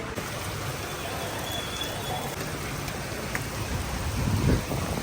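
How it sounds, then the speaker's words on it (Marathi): Steady rain hisses evenly throughout, dense and close, with a low rumble swelling briefly near the end. "चला आता आम्ही पावसातच भिजत चाललोय"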